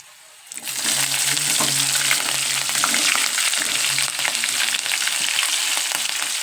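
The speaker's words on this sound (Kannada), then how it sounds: "ಸ್ವಲ್ಪ ಎಣ್ಣೆಗ ನೋಡ್ರಿ ಇವೆಲ್ಲ ಕೆಂಪು ಉರ್ಕೊಂಡು" Ingredients fry in hot oil in a pan for North Karnataka-style uppittu: a loud, dense sizzle bursts in after a brief quiet start and holds steady and close throughout.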